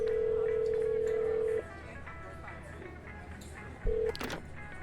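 A phone call is traced in the Shadows of Doubt video game, with a steady electronic tone held for over a second, then a short repeat of the tone and a brief click, over a dense game ambience.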